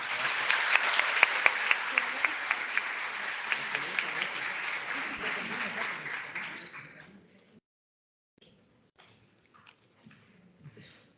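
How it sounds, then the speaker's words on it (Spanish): Audience applause after a university lecture on the future of higher education, as a certificate is presented: steady dense clapping for about seven seconds, then fading out, with sparse scattered claps and faint murmurs afterward. "Un aplauso, por favor."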